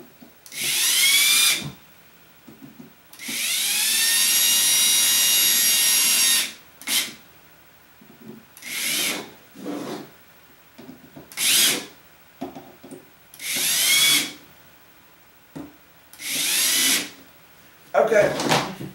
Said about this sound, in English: More drill sounds incoming.